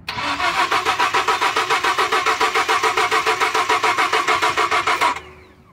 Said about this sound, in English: Crank the engine for me, please.